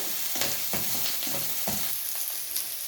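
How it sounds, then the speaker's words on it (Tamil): Curry leaves frying in a pan: a steady, close hiss of hot oil with bursts of crackling sizzle and intermittent stirring scrapes. "இப்போ வந்து நாங்கள் இந்த கருவேப்பிலையும் இருக்க போடுறோம் வந்து. அதையும் போட்டு விடுறோம்."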